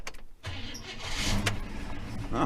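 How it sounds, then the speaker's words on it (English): Holden HK car starter motor spinning over briefly before the cold engine catches and runs, a steady mid-pitched engine sound building through the clip with no talking. "So now the starter motor will probably just spin over a few times."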